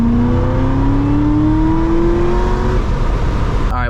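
A C6 ZR1 Corvette with a modified exhaust revs hard, its loud engine note climbing steadily in pitch for a few seconds before dropping off, with a brief sharp mechanical rattle at the end.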